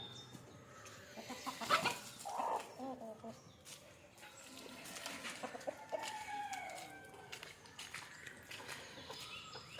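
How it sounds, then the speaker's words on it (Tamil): Native country chickens cluck and squawk as their coop is opened at about half past seven in the morning, scattered nearby calls with one crowing rooster, irregular bursts over a quiet outdoor background, while someone talks at times. "காலைல ஒரு ஏழ்ரை போல் நான் கோழி கூட்டு திறந்துட்டுருக்கேன்"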